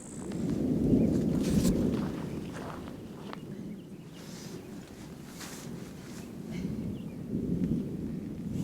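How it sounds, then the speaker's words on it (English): Heavy rain pours down on a mountain hiking trail after a sudden shift from light sprinkle, a steady broadband hiss with swelling gusts and muffled rumble throughout, no talking. "It went from a very light sprinkle to just straight downpour."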